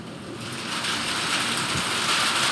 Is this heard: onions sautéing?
no